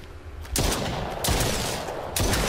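Gunfire in the VR shooter Brookhaven Experiment comes as three loud, close bursts of rapid shots, spaced apart by short lulls, with no talking.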